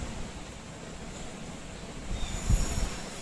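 Ganadevta Express running from Howrah toward Tarapith, a steady low rumble of the moving train with wind-like hiss and a brief heavier thump near the end, heard from inside the carriage.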